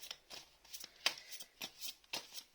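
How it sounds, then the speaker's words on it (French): Tarot cards being shuffled and drawn by hand, a series of soft, quick riffling and flicking bursts repeating in an uneven rhythm, close and fairly quiet with no talking. "Alors, je vais tirer une autre carte."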